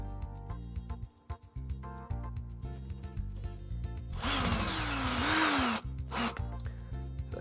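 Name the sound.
power drill driving mounting screws into wall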